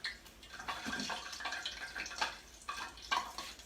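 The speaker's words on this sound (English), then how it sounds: "I'm going to sprinkle a little bit of water on that. Make sure I get a pop." Water sprinkled into a hot pan while cooking a plant-based pasta dish, giving bursts of sizzling crackle and popping that flare and fade across several seconds, fairly quiet and close.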